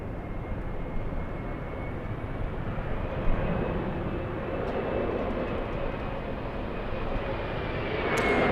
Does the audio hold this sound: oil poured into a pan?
no